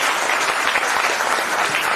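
An indoor audience at a motivational lecture breaks into steady, loud applause, a dense wash of clapping that holds evenly throughout with no voices over it.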